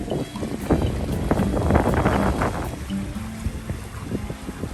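Wind rushes over a sailboat on a solo trip around Vancouver Island, with steady buffeting against the microphone and water washing along the hull, close and continuous.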